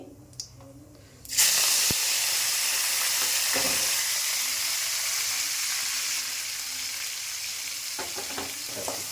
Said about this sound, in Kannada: ಈಗ ಒಗ್ಗರಣೆಗೆ ಸ್ವಲ್ಪ ಮೆಂತ್ಯ ಸೊಪ್ಪು ಹಾಕ್ಕೋತೀನಿ.